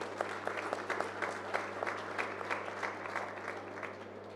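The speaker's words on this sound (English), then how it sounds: "I would like everybody to give them applaud" Faint, steady audience applause at a national net zero strategy presentation: many hands clapping at a distance over a low electrical hum, with no voices on top.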